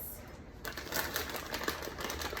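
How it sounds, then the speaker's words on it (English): Pampered Chef kitchen shears snip open wrappers on Halloween candy, giving a few quick, crisp cuts and plastic crinkles close by at low volume. "I'm just using the Pampered Chef shears to open up my candy"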